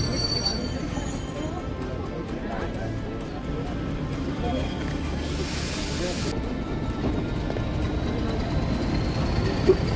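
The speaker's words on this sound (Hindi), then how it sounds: "तो 1 मिनट रुकने के बाद ट्रेन हमारी लाउडेले रेलवे स्टेशन से चल रही है वापस से।" The Ooty toy train pulls out of Lovedale railway station with a low rumbling roll and faint high wheel squeal, steady and moderately loud, with people speaking over it.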